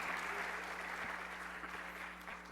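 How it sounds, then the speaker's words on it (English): Audience applause at the close of a conference session, a dense, steady clapping that carries on for the whole stretch at an even level, with no voices standing out. "So I think a big applause now."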